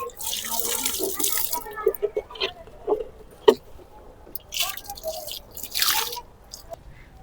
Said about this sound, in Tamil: இதுக்கு நம்ம தண்ணி ஊற்றிக்கலாம்.